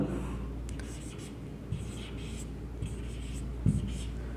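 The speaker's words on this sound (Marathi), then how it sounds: "तर मी एक संख्या लिहितो आता" A marker or chalk writes a number on a classroom board, producing a few short scratchy strokes with brief pauses over a low steady room hum.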